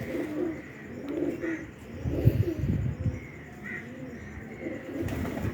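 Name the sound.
pigeon cooing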